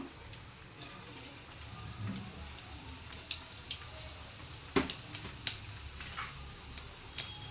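Cumin seeds crackling in hot oil in a pan while tomato charu is being made, with scattered small pops and ticks over a soft steady hiss.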